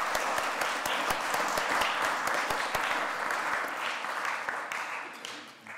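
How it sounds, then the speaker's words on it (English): A meeting audience applauds at the close of a mental health in primary care event, dense steady clapping filling the room that slowly tapers off near the end. "So just one round of applause for them."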